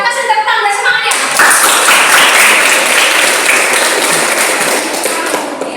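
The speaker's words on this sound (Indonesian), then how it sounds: "kita kasih tepuk tangan dan semangat ya" Classroom applause for a student group, a burst of clapping rising after a second of talk and continuing loud and dense, with voices mixed in.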